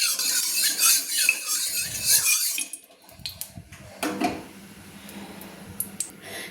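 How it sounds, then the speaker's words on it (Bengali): Spatula stirring a little white oil in a kadai, metallic scraping and clinking against the wok in uneven bursts, close and fairly loud, with quieter clatters after a short pause. "দিয়ে ভালো করে খুন্তি দিয়ে নেড়ে নিলাম।"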